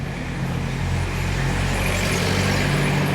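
Cars on a Pattaya street rolling past in a steady low rumble of engine and tyre noise, moderately close, with no voices.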